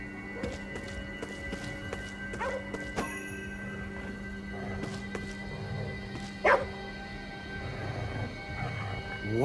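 A dog barking in the video game Ghostwire Tokyo, a few scattered short barks and yelps over a steady humming city ambience, moderately near.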